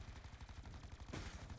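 Rapid SMG bursts in Black Ops 4 zombies mode, firing in steady rhythmic chatter throughout, close and loud, with a denser burst near the end.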